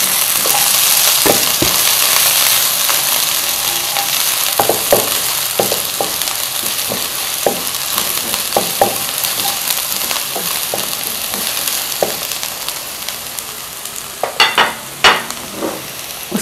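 Spring onion whites frying in hot oil for chicken fried rice, a steady dense sizzle with scattered crackles and sharp pops, loudest near the end, alone with no talk.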